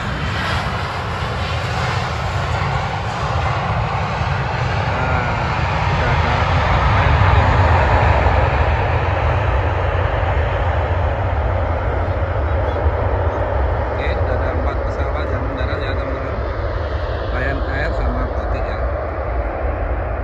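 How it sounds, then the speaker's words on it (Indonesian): The loud, steady roar of a Lion Air passenger jet's engines as it lands fills the air, swelling slightly midway before holding on without a break. "Ini pesawat landing teman-teman."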